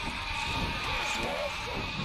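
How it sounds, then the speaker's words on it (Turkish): Lambs bleating beside their shepherd in the video game Overlord: Raising Hell, brief bleats heard close under a steady game background hum and continuous talking. "Bir çoban ve kuzularını bulduk."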